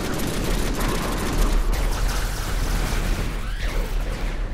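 Gunfire in the Deadpool video game, loud rapid bursts of shots blending into a continuous roar with booming impacts, close and dense throughout.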